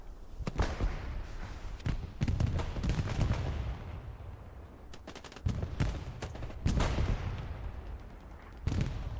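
Hell Let Loose battle gunfire: scattered rifle and machine-gun bursts alongside heavier booming blasts, irregular and somewhat distant over a low rumbling background, with no voices.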